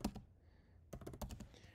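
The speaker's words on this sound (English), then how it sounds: "I'm just gonna type in twitter.com." Quick keys tap on a computer keyboard while a web address is entered. A short burst of clicks comes first, then a pause, then a second run of rapid keystrokes, close and clear.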